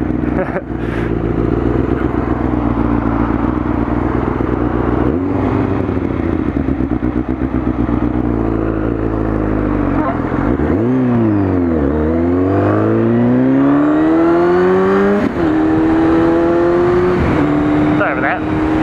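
A motorcycle engine runs loudly and continuously close by, revving up and down with rising and falling pitch as the bike starts off and rides, with rough clattering mechanical noise throughout.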